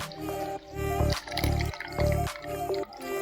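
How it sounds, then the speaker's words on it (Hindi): Water-swollen orbeez beads soaked in Eno solution are poured out in a series of wet plops and drips. The bursts come in a rough, repeating rhythm, close up and fairly loud. "चलिए हम अब इनो वाली को डालते हैं।"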